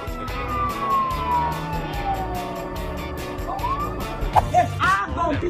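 A police car siren wails nearby, sweeping tones rising and falling with a short yelp burst near the end, over engine rumble and road noise, with people talking underneath.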